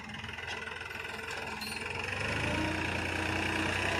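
A New Holland 3600-2 tractor pulling a seed drill while sowing wheat brakes and turns, its engine a steady mid-pitched drone with rattling that grows slightly louder and lower, with no talk.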